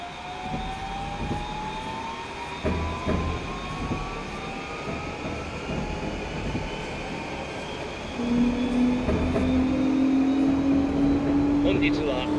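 A Narita Express train running in the Densha de Go video game, a steady rolling rumble with rising motor whine, a tone coming in later, and an announcement voice talking over it.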